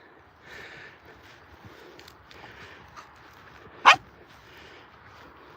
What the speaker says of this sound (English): And then you bark.